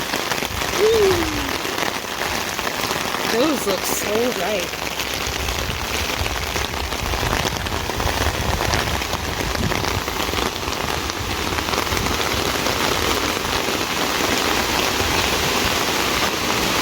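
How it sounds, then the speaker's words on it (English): Steady rain falls outside the Sonora Caverns, a dense, even patter that fills the whole stretch, with a few brief voices speaking near the start. "Nice and rainy."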